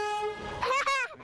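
A big red garbage truck sounds its horn while coming down a residential street, a loud sustained honk with a second blast following closely, heard from indoors near a window.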